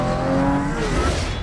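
Lamborghini car driving off in a movie scene, a brief close engine rev rising in pitch with tire noise as it pulls away.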